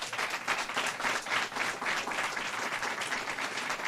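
An audience at a bill-signing event claps steadily in a dense, even wash of applause that holds at the same level throughout.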